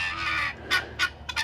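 Fowl honking, goose-like, heard as a few short loud calls over a steady low background hum, first a longer call and then several quick bursts close by.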